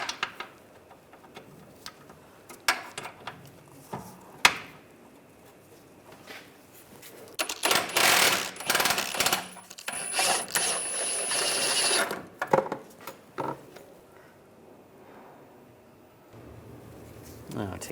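A socket wrench works a bolt loose on the right rear lower rearward control arm of a 2006-2009 Mercedes-Benz E350, with a T55 socket: sharp ratcheting clicks and metallic scrapes, building to a dense stretch of grinding clatter mid-clip, then fading to light taps.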